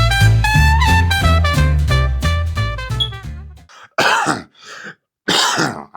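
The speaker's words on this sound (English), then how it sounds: "I don't know why I start coughing whenever I'm reading" A man with 25 years of cigarette smoking behind him clears his throat and coughs in several rough, close bursts separated by short silences, right after a tonal, musical passage ends.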